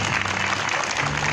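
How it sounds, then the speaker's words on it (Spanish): A steady wash of audience applause fills the air at an outdoor serenade for the patron saint San Juan Bautista, welcoming a band, with dense continuous clapping throughout. "se merecen un fuerte aplauso para poder recibirlos"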